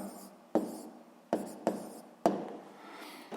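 Pen or chalk writing down an answer to a physics exercise, several short scratchy strokes in bursts on paper, close and clear without speech.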